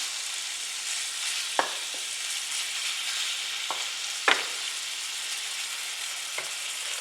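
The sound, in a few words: ground beef frying in a hot pan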